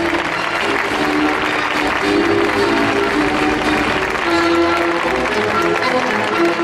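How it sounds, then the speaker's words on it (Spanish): A large crowd applauds participants at the 30th Folk del Mundo international folk music and dance festival in Jaén, producing sustained, loud, even clapping outdoors with a faint musical tone lingering underneath. "Un fuerte aplauso a todos los participantes en esta 30 edición del Folk del Mundo"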